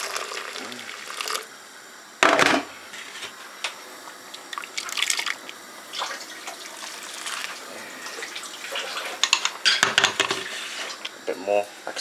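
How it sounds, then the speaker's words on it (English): Water poured from a kettle to rinse a cooking pot used for fufu and goat light soup, with splashing and clinking of metal in short bursts, scattered drips and brief talk between pours. "Use the kettle to rinse this a little bit."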